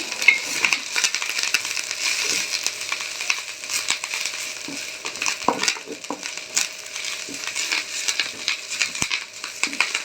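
Curry leaves fry in hot oil with a continuous crackling sizzle, dense irregular pops and spits running throughout at moderate loudness, with no talking over it.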